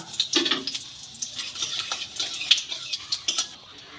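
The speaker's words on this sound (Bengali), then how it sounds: "সর্ষের তেল খুব ভালো করে গরম হয়ে গেছে এবার এর মধ্যে দিয়ে দেব পাঁচ ফোড়ন একটা তেজপাতা আর দুটো শুকনো লঙ্কা" Panch phoron, a bay leaf and dried chillies crackle and spit in hot mustard oil, with uneven bursts of sizzle and light clinks of a spoon against the pan, close up with no voices.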